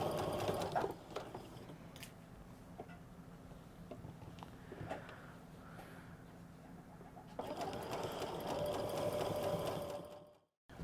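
A sewing machine runs continuously while stitching the double hem of a simple pull-on skirt, a steady close whirr that softens in the middle, swells again near the end and then stops abruptly.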